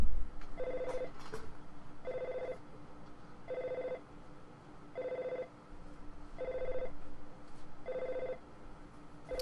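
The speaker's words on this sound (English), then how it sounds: "Oh, my phone's ringing in game too" A phone rings in the video game EarthBound with six evenly spaced electronic trills, each lasting about half a second, played fairly softly over faint background noise.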